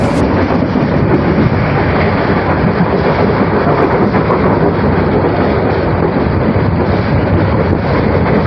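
Burimari Express passenger train running on its route from Kamalapur station in Dhaka toward Gaibandha, a steady loud rumble and rushing roar throughout, close and continuous with no talk.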